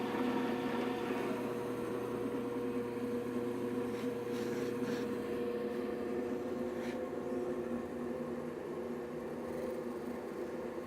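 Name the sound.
RIKON drill press drilling veneered plywood at low RPM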